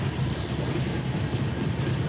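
In Trainz Simulator, an EMD diesel locomotive hauls the Haldibari–Kolkata triweekly superfast express past on Northeast Frontier Railway, a steady, dense rolling rumble of railcars and wheels.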